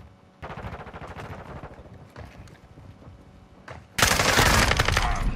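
A silenced FSS Hurricane in Modern Warfare II fires rapid bursts of muffled shots with a fast, crackling rhythm, then erupts into a much louder, denser burst of automatic fire near the end.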